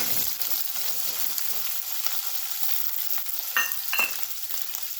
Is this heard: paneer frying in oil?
yes